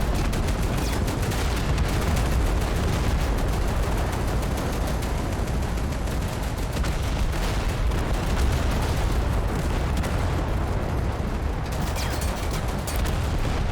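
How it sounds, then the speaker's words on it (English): Artillery fire in the war video game Total Conflict: Resistance, a dense, continuous roar of explosions and blasts, loud and unbroken throughout with no talking. "god, the artillery"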